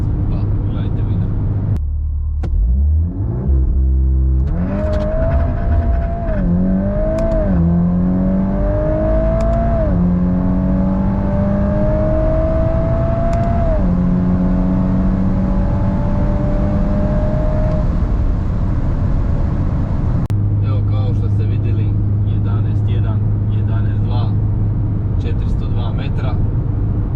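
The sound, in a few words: VW Golf 8R stage 2 accelerating, quarter-mile run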